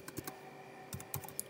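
Quick, uneven keystrokes on a computer keyboard while typing out Java code, close and clear in a quiet room, coming in short bursts separated by pauses.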